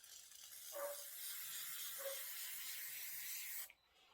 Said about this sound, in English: I like this to kind of have a lot of spray because I want it to stay down